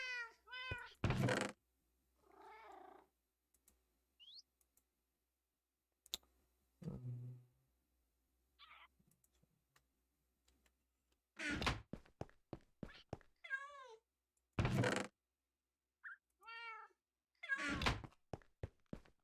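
Several cartoonish cat meows from a video game, arriving in short bursts with clicky thunks and interface clicks between them, clear and close with pauses of silence.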